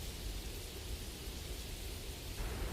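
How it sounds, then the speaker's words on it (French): Storm in an anime, with a steady roar of rain and rumbling thunder that fills the whole stretch evenly at moderate loudness, with no voices. "Quelle tempête!"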